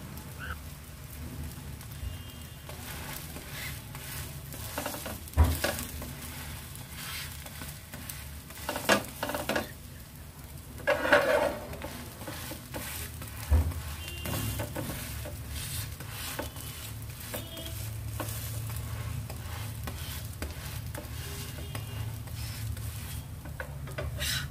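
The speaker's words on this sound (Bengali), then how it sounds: "এরপর একবার ডিমের দিকটা তাওয়ার মধ্যে দিয়ে খুন্তি দিয়ে চেপে চেপে ফ্রাই করে নেব।" Egg dosa fries on a hot tawa, a steady sizzle and crackle with occasional scraping and pressing from a spatula, close and continuous without talk.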